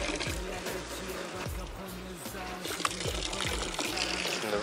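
Water from a Kaz Dağı mountain spring runs steadily into containers being filled at a village spring, a continuous close trickle and splash with faint voices in the background.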